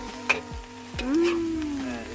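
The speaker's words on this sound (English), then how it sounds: "making his fried rice" Fried rice sizzles in a pan on an outdoor trip while someone stirs, with a few knocks and scrapes of a utensil against the pan over a steady frying hiss.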